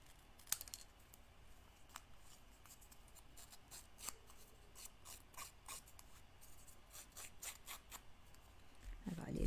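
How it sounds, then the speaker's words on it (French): Scissors make quick, crisp snips in a close, irregular series over faint background noise, with a quiet voice speaking French now and then. "On va couper ça."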